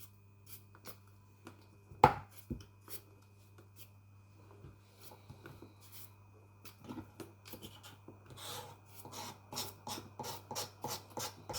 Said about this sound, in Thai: เอ็มมาหั่นอันนี้